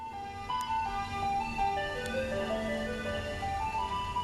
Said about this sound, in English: It sounded like the same music that you hear being played when the ice cream truck drove down the street during the summer.